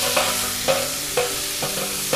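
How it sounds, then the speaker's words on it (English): Ginger garlic paste sizzles loudly in oil with spluttering whole garam masala over a slow flame, a dense close frying hiss broken by five evenly spaced stirring knocks. "Add ginger garlic paste."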